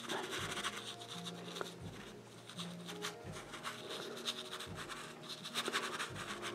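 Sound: dry brush blending on canvas

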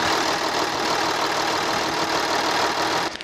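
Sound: V6 diesel engine idling

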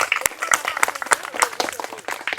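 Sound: audience applause for a contestant

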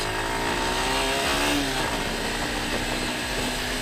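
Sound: motorcycle exhaust revving

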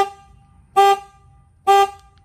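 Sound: truck horn honking

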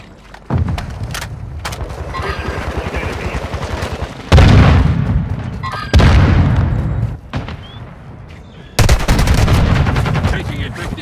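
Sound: gunfire in the video game Call of Duty: Warzone

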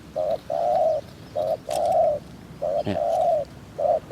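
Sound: spotted dove cooing

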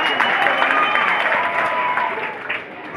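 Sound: audience applause

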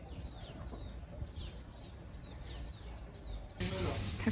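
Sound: chickens clucking

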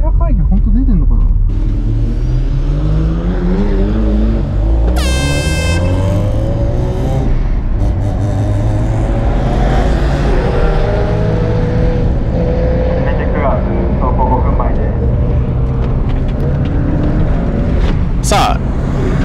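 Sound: 400 hp Subaru Impreza GRB car driving onto race circuit

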